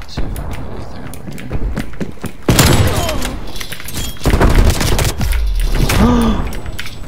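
Rapid bursts of automatic gunfire and booming shots from the Call of Duty Cold War video game, loud and dense, with a person talking over the action and mechanical keyboard clicks mixed in.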